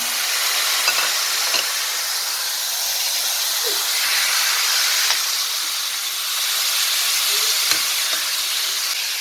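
Lamb braising in a curry pot gives a steady, broad sizzling hiss that runs unbroken throughout, with a few faint clicks and stirs near the pot and no talking.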